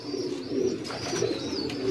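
Young pigeon chicks of the Phulsira line coo nearby in a continuous soft burbling, with a few short higher calls breaking through.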